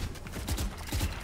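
Video game weapon reloading: a short run of mechanical clicks and clacks, close and fairly quiet, with a rhythmic ratcheting feel.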